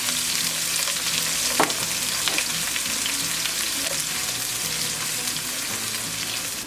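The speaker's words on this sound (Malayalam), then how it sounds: "അതിലേക്ക് നമ്മൾക്കൊരു 1/2 കപ്പ് ചെറുതായി അരിഞ്ഞ സവാള അതിട്ട് കൊടുക്കും." Half a cup of finely chopped onion frying in a pan of hot oil with popped mustard seeds while broken-wheat upma is made; a steady, close sizzle runs throughout, with a couple of brief stirring scrapes.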